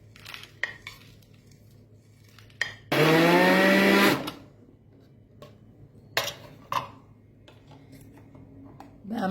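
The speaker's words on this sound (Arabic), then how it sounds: "وهفرمه في الكبه فرم ناعم." Fried onions are finely minced in an electric food grinder, one loud whirring burst of about a second alone, framed by quieter kitchen clinks and knocks before and after.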